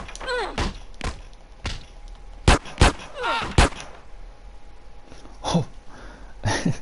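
Gunshots from GTA San Andreas, several sharp loud bangs spaced irregularly across the stretch, mixed with brief game voice sounds and short exclamations.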